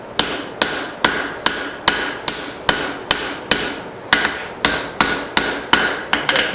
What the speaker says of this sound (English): So I've been hammering